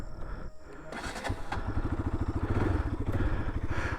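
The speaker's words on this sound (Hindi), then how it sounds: "तो पहले करते हैं यार बाइक को कोल्ड स्टार्ट" A BMW S1000RR sport motorcycle cold-starts outdoors near a house in the evening, its engine catching after a brief crank and settling into a loud, rapid, pulsing idle close by.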